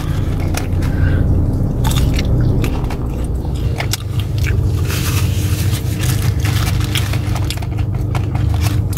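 Eating a chicken zinger sandwich and fries inside a parked car, with close, continuous chewing, biting and wrapper crinkles over a steady low cabin hum, no talk.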